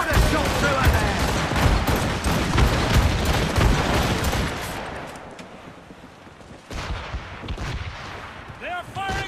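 Ship cannons fire a volley in Assassin's Creed Rogue: a dense, loud barrage of overlapping booms and gunfire crashing for several seconds, then thinning into scattered blasts and battle noise.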